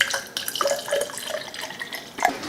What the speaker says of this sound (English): put about 1 inch of water in the bottom